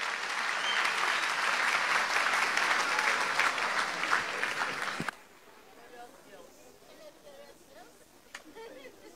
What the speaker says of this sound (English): Let's keep clapping while she comes.